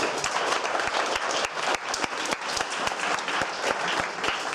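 An audience at a junior hackathon applauds for a participant, a steady dense patter of many hands clapping close by for a few seconds with no voices standing out.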